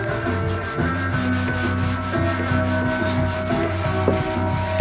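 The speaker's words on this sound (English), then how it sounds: "You can decide how much you will sand." A sanding sponge rubs along a Fender Jazzmaster guitar neck by hand in quick, even back-and-forth strokes, a loud and close scratchy rhythm over a steady low hum, with no voices.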